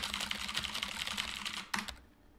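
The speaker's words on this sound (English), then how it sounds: "Oh, he's typing and then he deleted it." Rapid keyboard typing in the Emily Is Away video game, a steady run of close clicks for about two seconds, then a last few keystrokes before it goes quiet.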